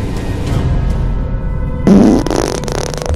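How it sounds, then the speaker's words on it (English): A glitchy in-game sound in Back 4 Blood, heard as a sudden loud, wet, sputtering burst resembling a fart, cutting in abruptly after a steady tonal hum and stuttering on briefly. "does sound like someone's got like a really just... wet fart, though, doesn't it?"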